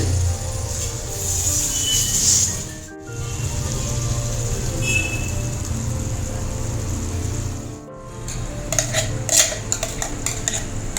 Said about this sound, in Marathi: थोडीशी परतली तर मी हा जो वाटलेला मसाला आहे तो टाकते याच्यामध्ये